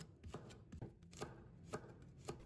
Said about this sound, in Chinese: 喜欢吃辣的，还可以切入一些小米辣。